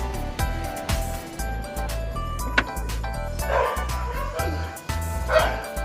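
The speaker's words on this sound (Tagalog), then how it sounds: "Ang ingay ng aso namin." A dog barks and yips repeatedly at close range, with short whimpers in between and faint background noise.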